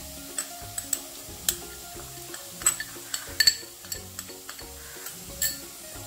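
Kashmiri chilli powder being stirred and fried in a pan for chilli idli, with soft scattered scraping ticks and clinks of a spoon against the pan over a faint sizzle, close and quiet.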